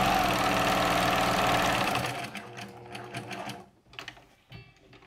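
A sewing machine runs fast and steady, then slows into short, broken bursts of back stitching on an upholstery-fabric quilt with raw-edge appliqué, heard up close with no talking.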